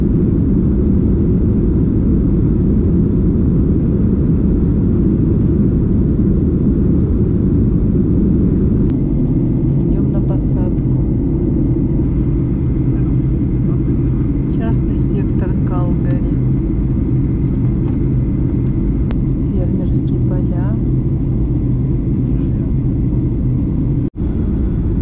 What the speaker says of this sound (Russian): Сейчас будем взлетать уже.